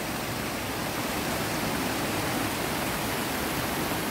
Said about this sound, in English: That water's just cascading over that rock.